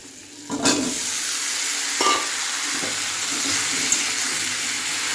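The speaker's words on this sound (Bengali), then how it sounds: "নুন হলুদ অল্প চিনি দিয়ে ভালো করে কষিয়ে এটা এই পেঁয়াজের সাথে দিয়ে ভাজবো" Onion frying in a pan with cumin, salt, turmeric and sugar, a loud steady sizzle filling the clip with a few scrapes and knocks from stirring.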